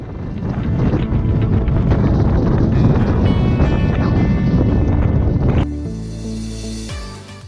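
Strong wind blasts loudly across the microphone in a continuous rumbling roar on cold, wet weather in Guadeloupe, then drops off abruptly into a quieter hum.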